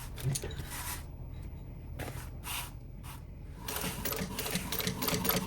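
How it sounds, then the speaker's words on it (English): Sewing machine stitching slowly around a curve while sewing a pool tote bag, a steady whirring run in short bursts with brief pauses between, close and fairly loud, with no talk. "as I go around my curve, I'm just going to go very slowly as I turn"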